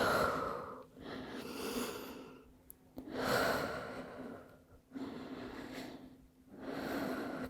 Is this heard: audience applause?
no